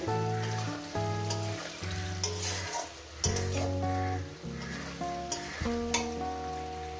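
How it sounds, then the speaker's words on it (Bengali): Potatoes fry in a pan with a soft sizzling crackle and occasional stirring knocks, heard under melodic background music that carries through most of the stretch. "আলুটা দিয়ে সুন্দর করে ভেজে নিয়েছি"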